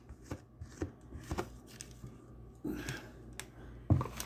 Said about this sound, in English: I'm going to dump this out onto my pan. Make sure I get all my dots out of there.